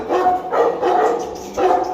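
A heavyweight dog barks in a rapid series of deep, loud, close barks, three or four bursts in quick succession with no talk.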